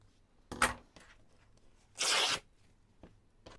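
Scissors slicing through scrap fabric for a junk journal, two crisp cuts: a short snip followed by a longer, louder shearing cut, close and alone in a quiet room.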